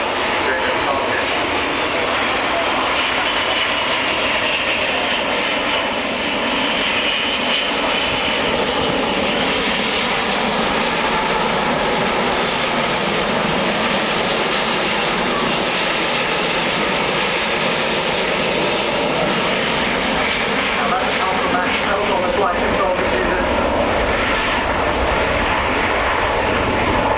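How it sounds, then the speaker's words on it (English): An Airbus A380 makes a low-speed flyby at an airshow, its engines producing a loud, continuous roar that holds steady throughout, with faint voices in the crowd. "you'll see this low speed performance demonstrated during this passage"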